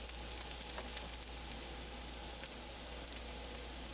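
Chopped vegetables sauteing in a pot for potato sausage soup, a steady, quiet sizzle and crackle running throughout with no talking.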